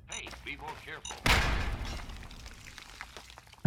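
A grenade or mine explodes in the video game Fallout 3, one sudden loud boom with a rumbling decay, following a voice speaking over background game sounds.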